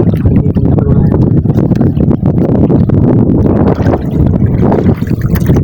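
A new boat motor runs steadily out at sea on a fishing ground, a loud continuous churning drone mixed with wind and water rush.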